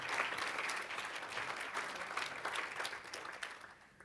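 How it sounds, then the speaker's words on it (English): A conference audience at a summit applauds: a fairly soft, dense patter of clapping from many hands that gradually fades toward the end. "That is a round of applause"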